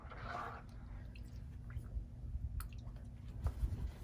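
A quilt soaks in cold water with dish soap and is worked by hand, giving faint, close wet squishes and soft drips in an otherwise quiet space, with no talk.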